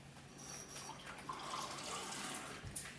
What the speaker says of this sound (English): I'm going to zero it back out again and do 52 grams of water.